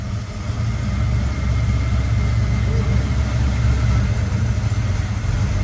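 A 1977 Chevy C10 pickup engine runs at a rough, loud idle close by, a steady low rumble with slight unevenness throughout, while people talk faintly over it.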